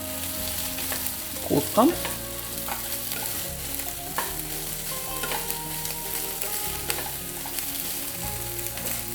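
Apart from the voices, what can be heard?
frying with a little oil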